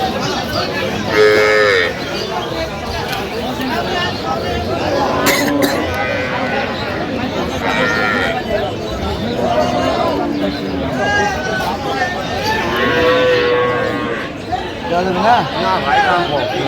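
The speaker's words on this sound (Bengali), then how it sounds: "গাভী বাছুর আমরা দেখছিলাম এখানে।" Cows with calves moo repeatedly at a busy cattle market in Aftabganj, loud nearby lowing calls recurring every few seconds over crowd chatter and people talking.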